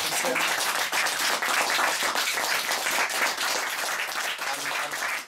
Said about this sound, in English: Can we give a big round of applause, please?